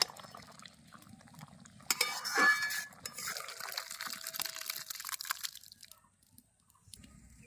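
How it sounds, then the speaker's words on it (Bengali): Boiled masoor dal pours from a pot into a bowl, a thick wet slosh with clinks of metal cookware swelling in the middle and trailing off, close and fairly loud, with no talking. "ডাল সেদ্ধ হয়ে গেছে এবার একটা গামলার মধ্যে ঢেলে নেব"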